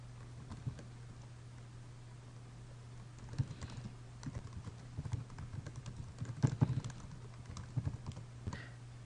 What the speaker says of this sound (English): here's where you'll just start typing whatever it is you want to type